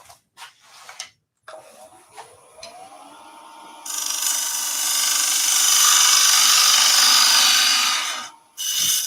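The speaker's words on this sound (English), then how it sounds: "And we can finish hollowing as well." Wood being hollowed on a lathe, a tool scraping in short bursts before a long, loud, steady cutting rasp that stops abruptly, with a brief knock after.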